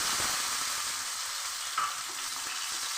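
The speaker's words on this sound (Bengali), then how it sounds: "রসুনটা আমি একটু থেতো করে নিয়েছি, লাল করে ভেজে নেব।" Crushed garlic with dried and green chillies frying in hot oil, a dense, steady sizzling hiss close up, with a faint stir or tap partway through and no voices.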